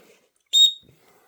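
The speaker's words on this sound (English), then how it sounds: "I've got a whistle on here, so I don't need to take one. And she's quite loud." A safety whistle clipped onto packed outdoor kit gives one short, sharp, shrill blast, loud and close against an otherwise quiet background.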